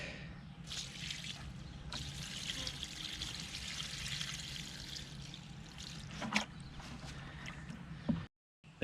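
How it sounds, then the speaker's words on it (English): Fish emulsion is poured into a compost tea bucket, giving a steady close trickle and gurgle of thick liquid that runs unbroken for several seconds, with a few splashes and a brief cutoff near the end. "Next, we're going to add 2 cups of fish emulsion."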